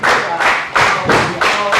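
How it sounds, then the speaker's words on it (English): A wrestling crowd at a live show claps and stomps in a steady rhythm behind the wrestlers, with loud, regular thuds about every third of a second. "Crowd getting behind the wrestlers."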